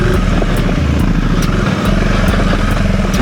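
A 2025 KTM 390 Enduro R trail bike's single-cylinder engine runs loud and near, with quick, snappy throttle blips pulsing at a steady rhythm and no voices.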